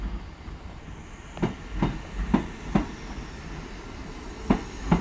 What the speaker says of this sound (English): This train is not in use or not in public use. This is just passing through the station.